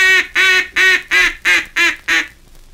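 Duck call blown to imitate mallard hen quacks, a loud, close series of seven nasal, reedy quacks in an even descending cadence, alone without talking.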